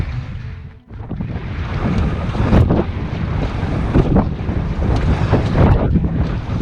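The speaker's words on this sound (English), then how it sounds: "Oh yeah, it's windy right through here." Strong gusting wind and choppy waves buffet a canoe crossing the middle of a channel, a loud continuous roar with water slaps and splashes throughout.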